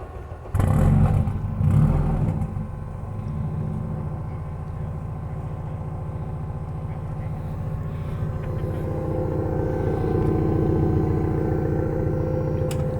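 A turbocharged Honda K24 engine swapped into a Nissan S14 240SX time attack car fires up with a loud starter crank and initial burst, then settles into a steady, rumbling idle that rises slightly near the end.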